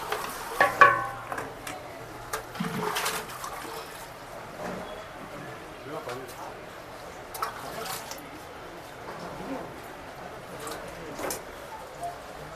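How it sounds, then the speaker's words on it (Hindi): A stick swirls through a pot of chaat pani seasoned with black salt at a long-running Indore chaat stall, giving soft, faint sloshing and splashing stirs amid a busy street background with voices. "भैया ने छड़ी घुमा दी है इसके अंदर।"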